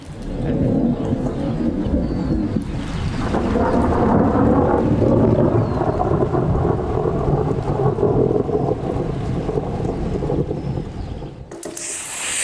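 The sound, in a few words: rain and thunder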